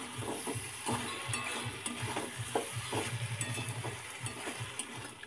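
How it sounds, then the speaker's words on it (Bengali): Mustard and poppy seed paste stirred in a cooking pan for a bean, potato and carrot vegetable dish, a gentle sizzle with repeated soft scraping strokes in a steady rhythm, fairly quiet, no voices. "এখন সর্ষে পোস্তটাকে ভালো করে মিশিয়ে নিচ্ছি"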